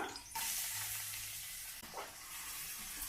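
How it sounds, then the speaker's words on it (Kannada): Onion frying in oil with garlic and curry leaves for a masala egg fry, a soft continuous sizzle and hiss with a light stir or two, close but fairly quiet. "ಈರುಳ್ಳಿ ಹಾಕಿದ್ಮೇಲೆ ಇದೊಂದು ಸ್ವಲ್ಪ ಫ್ರೈ ಮಾಡ್ಕೋಬೇಕು"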